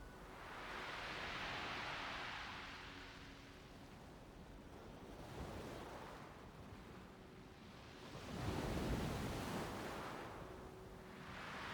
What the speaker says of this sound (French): écouter le bruit des vagues